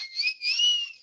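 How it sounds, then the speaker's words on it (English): A person whistles a short two-part tune, bright and close, with a brief break between the phrases and no other sound. "Love that whistle."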